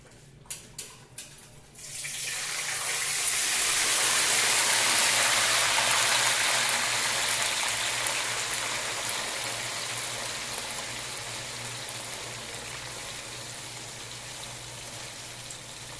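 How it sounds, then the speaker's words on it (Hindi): Finger chips drop into hot oil after a few short clatters, and a loud, dense frying sizzle swells up and keeps bubbling steadily, easing slightly toward the end, with no talking. "अभी जो है ऑयल गर्म हो गया है। अभी हम ये इसमें डालेंगे ये फिंगर चिप जो है।"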